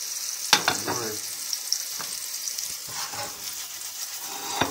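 Butter sizzling in a cast iron pan, a constant close frying hiss broken by occasional sharp pops and clinks, with no voices.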